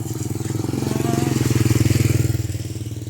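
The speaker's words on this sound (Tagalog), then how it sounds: "Oh, dumaan yung motor." A motorcycle engine putters nearby on a street in Vientiane, Laos, with a rhythmic, throbbing pulse, swelling slightly as it passes.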